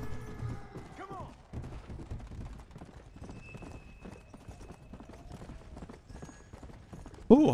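Horse hooves clip-clopping in a video game, a rapid steady run of hoofbeats throughout, with faint tonal game sounds and a sudden louder burst at the end.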